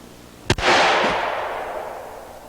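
Two guns fired at once outdoors at a target, giving one sharp close report with a doubled crack, then a long rumbling echo that fades over about two seconds.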